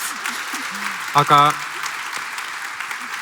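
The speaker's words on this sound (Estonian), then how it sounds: "väärib aplausi." An audience at a school seminar breaks into applause, a steady wash of clapping under the whole stretch while a voice briefly speaks over it.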